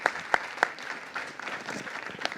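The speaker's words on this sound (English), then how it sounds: "Help me give them a round of applause" Audience applause at the close of a panel roundtable on farmers' perspectives at a Central America summit, a few sharp claps at first, then a thinner spread of clapping that carries on steadily at moderate volume.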